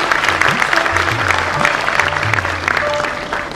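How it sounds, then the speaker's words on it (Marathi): Audience applause at the Kokan Mahotsav 2025 festival stage event, a steady dense clapping from a crowd that fills the clip at full loudness, with a voice and some tonal background sounds mixed in. "एकदा जोरदार टाळ्या व्हायला पाहिजे."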